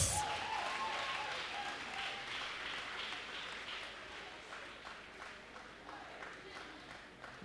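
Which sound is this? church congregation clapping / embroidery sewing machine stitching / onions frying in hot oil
church congregation clapping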